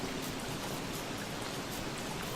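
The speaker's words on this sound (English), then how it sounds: "It is still raining, which is quite miserable." Steady hiss of rain falling in the video game Don't Starve, an even, dense wash of droplets without breaks, soft and continuous.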